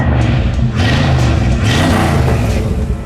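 A 1983 Jeep CJ-7 with a swapped 350ci engine revs close and loud, its deep exhaust note rising and falling through several quick blips over a constant rumble.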